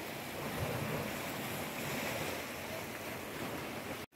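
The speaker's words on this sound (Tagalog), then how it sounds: "Yan ang dagat oh." Sea surf rolls in at Lanuza Marina Park, a steady wash of waves mixed with gusting wind against the microphone, fairly faint and unbroken until a brief cut at the end.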